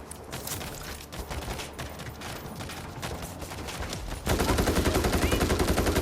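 Rapid automatic gunfire from the video game World War Z: Aftermath, Horde Mode on the Rome map, crackling steadily and growing louder and denser in a sustained burst toward the end.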